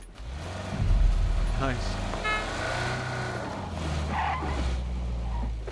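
A vehicle engine revs and drives off in PUBG, a steady motor drone with a brief horn-like tone, while players talk over it.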